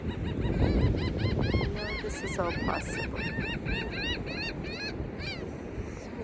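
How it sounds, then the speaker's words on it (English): Outdoor flock of geese honking repeatedly in overlapping rhythmic calls, fairly close and loud, with a person speaking briefly over the birds and wind buffeting the mic. "I love this medicine of these birds right now."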